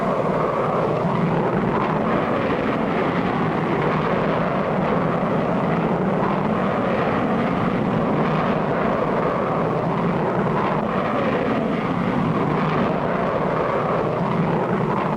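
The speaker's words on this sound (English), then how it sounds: "Boy, that was some takeoff." An airplane taking off in an old cartoon, a loud, steady roaring engine drone that stays at an even level throughout, with no voices.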